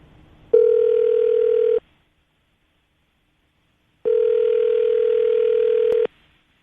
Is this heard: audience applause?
no